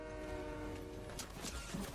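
Train in the video game Fortnite, a brief steady rumble with a sustained horn-like tone, fairly faint throughout.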